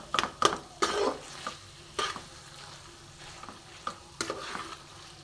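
Chicken cutlet mixture cooking in a pan, a low sizzle under irregular sharp scrapes and knocks of a spoon stirring, some clustered and some spaced out, quiet and close with no voices.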